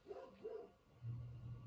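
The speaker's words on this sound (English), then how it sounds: "the dog's barking" A dog barks a few times at a distance, quiet yelps followed by a lower, steadier woofing, faint and muffled as if heard from outdoors.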